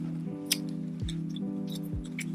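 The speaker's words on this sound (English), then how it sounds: "Oh, I'll just use my scissors," Scissors snip through paper to cut a bookmark, a few sharp, close clicks spaced irregularly over a steady low hum.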